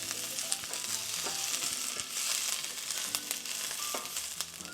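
Peppers hitting a pan of hot oil with toasted whole cumin seeds, a continuous close sizzle with occasional pops and light stirring clatter.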